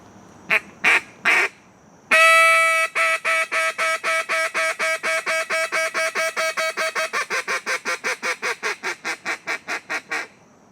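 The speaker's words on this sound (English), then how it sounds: "so that's a world champion duck call right there" A competition duck call blown in a world-championship style routine: a few separate opening quacks, then a long rapid string of loud, evenly spaced quacks that gradually speed up and shorten, heard alone with no talking.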